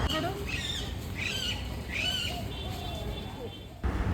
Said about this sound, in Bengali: তো প্রতিটা গাছে টিয়া পাখি তো এরকম না ডাকছে